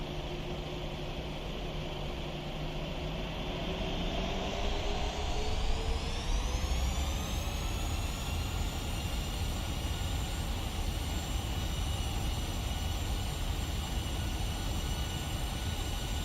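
A PMDG jet airliner in the Prepar3D flight simulator taking off, engines spooling up from a low hum to a loud, rising whine that settles into a sustained roar for the remainder.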